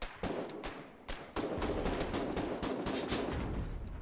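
Full-auto machine gun fire in the Foxhole war game, with dense rapid bursts of shots that are briefly interrupted early on, then continuous and close. No voices over it.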